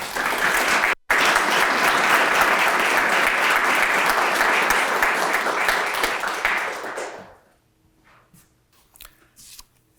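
An audience applauds to welcome a speaker to a talk, a full dense round of clapping that holds steady for about seven seconds, then fades out into quiet room noise with a few faint rustles.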